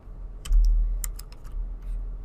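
Keystrokes on a computer keyboard while typing in Notepad, a few quick clusters of close, crisp clicks separated by short pauses, alone with no talk.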